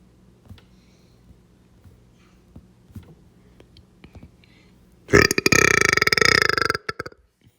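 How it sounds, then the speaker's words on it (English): A loud, drawn-out burp of about two seconds breaks suddenly out of near silence that held only faint ticks and taps, close to the mic and with no talking. "That's the burp of depression."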